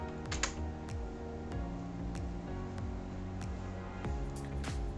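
Keys tapped on a computer keyboard while entering a Raspberry Pi command, light irregular clicks over a steady hum, fairly close and quiet.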